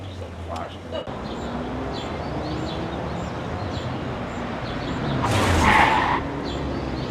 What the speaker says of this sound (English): Do you mean to say that I crashed into your car?